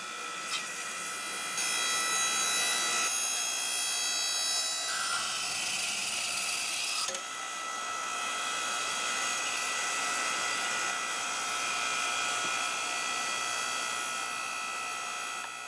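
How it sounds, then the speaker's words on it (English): A small electric log splitter powered off solar runs with a steady high motor whine while working a big piece of fir firewood, a brief louder straining burst partway through, close and without talk. "I'm going to fire this little thing up here and see if I can split my wood here."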